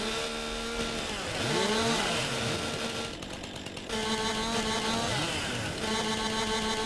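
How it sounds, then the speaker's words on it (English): A chainsaw in Farming Simulator 22 cuts the limbs off a felled tree, its engine droning steadily with rising and falling revs across the whole stretch and a brief dip in the middle, with no talk over it. "Let's get a little janky with the chainsaw."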